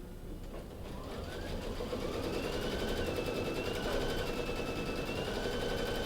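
An embroidery machine hums steadily and rapidly while stitching around a circle, with a fine, fast needle chatter and faint tonal whines over a continuous mechanical drone.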